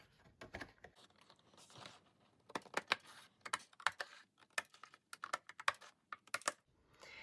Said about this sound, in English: let's trim this side a little bit.